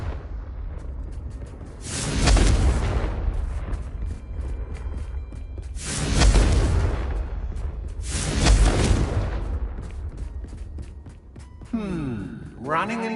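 Three heavy, roaring blasts of the Confringo explosive curse in Hogwarts Legacy, loud and near, each swelling and decaying over a couple of seconds, followed by a swirling magical whoosh.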